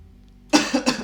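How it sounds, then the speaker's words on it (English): A single close cough breaks a quiet moment, a sharp burst followed by two quicker hacking pulses. "Ooh, cough again."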